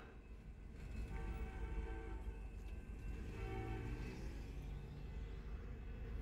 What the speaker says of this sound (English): What is that, a passenger train?